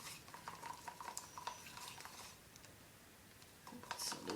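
Acrylic paint stirred inside small plastic cups, with a faint, steady scraping and clicking of the stirrer against the cup walls. Occasional light taps are heard, and a brief louder scrape comes near the end.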